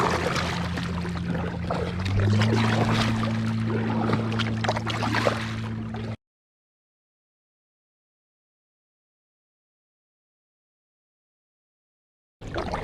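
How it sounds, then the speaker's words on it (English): Watery splashes and swishes from kayak paddle strokes on a Crescent Ultralite kayak for about six seconds over a steady low motor-like hum, then silence before the water sound returns briefly. "Let's get paddling."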